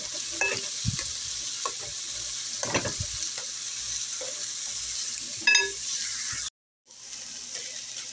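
Vegetables fry in a pan for a from-scratch tomato soup, with a steady sizzle throughout broken by a few stirring scrapes and clatters, then cut by a brief pause near the end.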